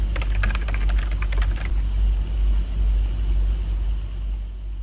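Someone types on a computer keyboard, a quick burst of clicking keys for about a second and a half, followed by quiet room hum and a low rumble with no voices.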